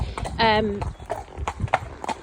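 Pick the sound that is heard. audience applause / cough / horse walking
horse walking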